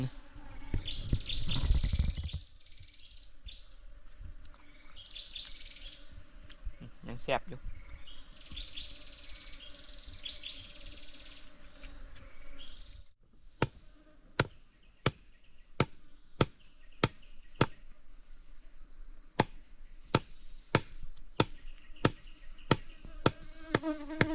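Wild bees buzz steadily near their nest outdoors, a close, continuous insect drone, with sharp rhythmic chopping or tapping knocks joining in the second half.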